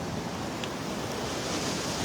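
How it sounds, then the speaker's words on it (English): Ocean surf breaking on a beach in North Naples, Florida, under a light north breeze, a steady broadband wash of waves with some wind noise and no talking. "Stirring up some waves."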